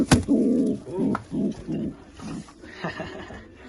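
Aggressive pitbull pigeons, the female bird attacking outside her nest, giving a series of loud, rhythmic cooing bursts up close, roughly five or six pulses with a sharp flap or strike at the start.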